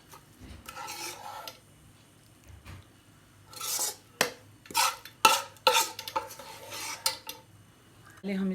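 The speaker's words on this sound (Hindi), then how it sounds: "अब इसको हम बाउल में निकालेंगे।" Cooked apple gourd and potato sabzi being scraped out of a metal pan into a bowl, with a spoon clinking and scraping in short, uneven strokes that grow louder and quicker near the end.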